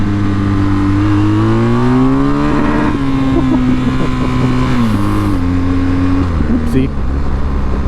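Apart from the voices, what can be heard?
BMW GS 1250 motorcycle engine revving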